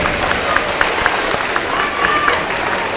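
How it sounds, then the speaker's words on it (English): Audience applause at a middle school grades 5–7 awards ceremony, a steady wash of many hands clapping for the full stretch at moderate loudness, with a few faint voices calling out briefly underneath. "Henry Dixon, Nicole Naus, Natalie Reneker, let's give them a nice round of applause."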